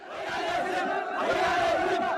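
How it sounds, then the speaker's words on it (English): Anti-government protesters chant together amid a large crowd in Addis Ababa, Ethiopia, a dense, steady mass of voices that swells slightly louder partway through. "Mingling in the crowd were anti-government protesters. Their chants of "We need justice""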